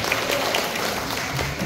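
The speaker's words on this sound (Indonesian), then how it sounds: "Tepuk tangan untuk Bapak Dr." Steady applause from an audience fills the room without a break, a dense patter of clapping hands at moderate volume.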